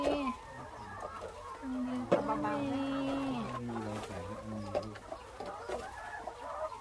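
Hens cluck softly on a farmstay in Ratchaburi, low, close, murmuring calls running throughout while people talk quietly nearby.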